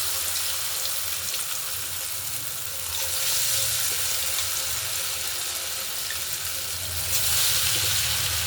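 Aloo bonda, potato dumplings, frying in hot oil, a steady loud sizzle and crackle close up that swells slightly as more batter goes in, with no voices.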